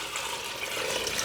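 Water is poured from a bowl into a pot of minestrone soup with tomatoes, a soft steady splashing and trickling rush heard up close for a brief moment.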